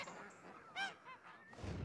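Farmed geese give a few short, nasal honks, one clear call followed by weaker ones, ending in a rough flutter of noise.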